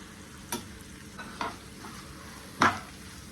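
Spices, including chilli and coriander powder, fry in a pan for egg curry over a faint background sizzle, broken by three distinct scraping stirs of a spoon, close and fairly quiet.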